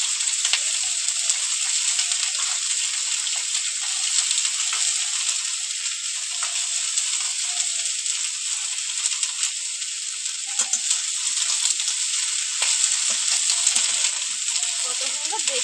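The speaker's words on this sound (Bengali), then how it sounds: "এবার ব্রোকলিটা দেবো।" Broccoli fries in a hot pan with a steady, bright sizzle that holds throughout, punctuated by faint scraping and stirring clicks near the end.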